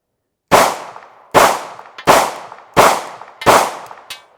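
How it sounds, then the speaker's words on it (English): A Sig Sauer P320 pistol fires five sharp, loud shots in a steady rhythm about two-thirds of a second apart, each blast ringing and decaying, followed by a faint metallic clack as the slide locks back. "it fired all 5 rounds and the slide locked back"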